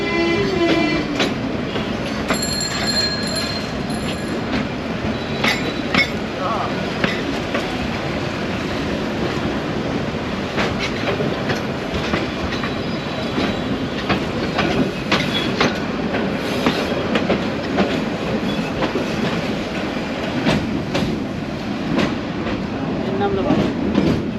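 Riding a local train from Dhaka to Narayanganj: a continuous rumble of wheels on track with rhythmic clickety-clack and occasional squeals, loud and close throughout.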